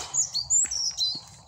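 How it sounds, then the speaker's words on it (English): Small birds chirp outdoors in quick, high, bright tweets, several short calls in a row over a quiet background, fairly faint and with no talking. "Hear the birds."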